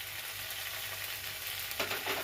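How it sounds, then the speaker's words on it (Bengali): Spice paste fries in a pan with chopped tomato, giving a steady, soft sizzle close by, with a brief burst of louder crackling near the end as the mixture is stirred. "আর একটু ভাজতে হবে এই সময়ে একটু টমেটো কুচি দিয়ে দেবো"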